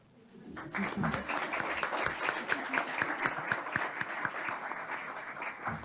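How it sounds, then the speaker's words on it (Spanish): Audience applause at a graphic design day event at a Guatemalan university, a dense, steady clatter of many hands that rises quickly and holds at even strength for several seconds. "Aplaudan."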